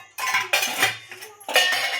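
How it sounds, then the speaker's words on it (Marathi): Washed kitchen utensils are stacked one by one onto a drying rack, giving several sharp metallic clanks and clinks in separate bursts, close and fairly loud. "आता भांडी खडीला लावून घेतली."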